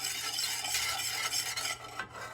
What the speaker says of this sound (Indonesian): Aduk-aduk hingga merata.